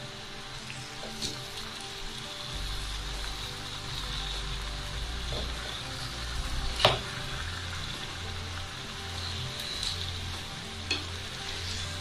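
Mysore bonda deep-fry in hot oil over a low flame with a soft, continuous bubbling sizzle. Occasional faint clinks and one sharper knock come from the pieces being turned. No one speaks.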